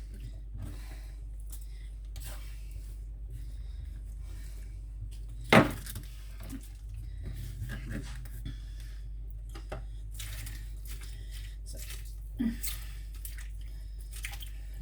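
Meat being washed for a Māori boil up: quiet wet squishing, dripping and occasional knocks against a pot or sink, with one sharper clatter midway, over a low steady hum.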